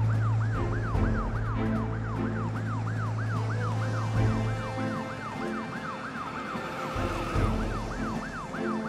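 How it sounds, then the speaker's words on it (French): A cartoon fire truck races along a French animated street, its siren wailing in rapid repeating rises and falls, loud and close throughout, over a steady low engine drone with a few brief thumps. "Un camion de pompiers? Il est passé si vite avec sa sirène."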